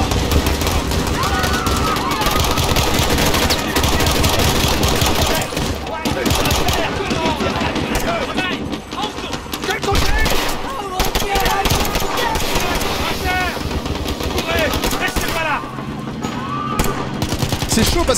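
Gunfire from the Call of Duty: Modern Warfare campaign, with dense machine-gun bursts and shots rattling almost without pause through a loud battle scene. Voices shout over the shooting throughout.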